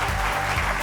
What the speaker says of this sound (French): je vous demande d'accueillir et d'applaudir très très fort